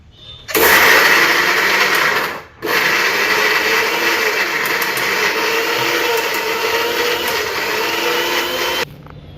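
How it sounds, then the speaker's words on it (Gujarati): A mixer grinder whirs loudly as it grinds coriander with stems, onion, chili and ginger dry without water. It runs in two bursts split by a brief pause, then a long steady run that cuts off abruptly. "એને આપણે ડંઠલ હોતા જ કટિંગ કરી નાખશું અને મિક્સરમાં પીસી નાખશું"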